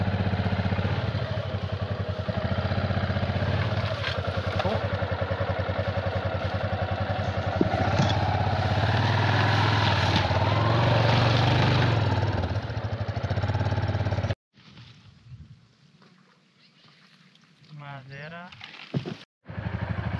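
An offroad motorcycle engine runs loud and steady up close on a muddy, sandy canyon trail, then cuts away to quieter intervals with faint engine sound and people talking.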